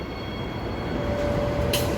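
An EMU electric train at Murdoch station platform in Perth rumbles steadily and loudly nearby, with a thin electric whine entering and a short hiss near the end.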